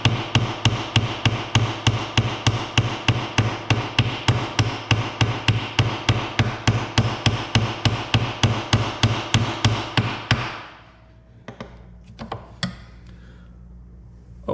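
An Old Town PDL kayak drive being hammered apart, a rapid, even run of close hammer blows lasting about ten seconds, then a few scattered knocks and handling sounds.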